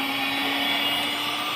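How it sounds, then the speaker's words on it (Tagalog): A blender whirring steadily as it mixes all-purpose cream until smooth for homemade strawberry ice cream, a loud continuous motor whine close by, with no talking. "biniblend ko guys yung all-purpose cream"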